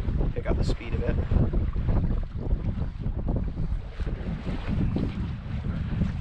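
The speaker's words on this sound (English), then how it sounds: "Not sailing very fast, but we're sailing anyways." A sailboat moving slowly under sail in steady wind, with constant rushing wind buffeting the microphone and water washing along the hull, loud and continuous with no clear speech.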